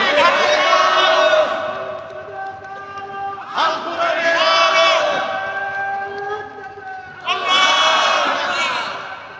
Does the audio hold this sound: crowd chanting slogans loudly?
yes